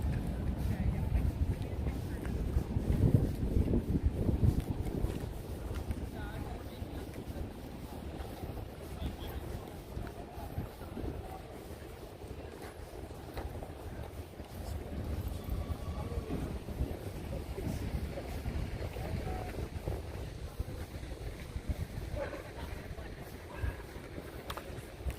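Steady wind gusting across a microphone in Central Park, New York City, a continuous low roar and buffeting that swells at times and stays loud throughout.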